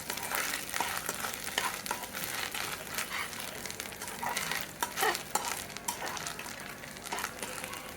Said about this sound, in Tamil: அதை இதோட சேர்த்துட்டு தேங்காயில் இருக்கிற ஈரப்பதம் போகிற அளவுக்கு நல்லா ஃப்ரை பண்ணிக்கலாம்